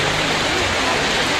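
Heavy rain pours down steadily during a hail storm in the hills of Darjeeling and Kurseong, a dense, loud, unbroken wash of noise close around.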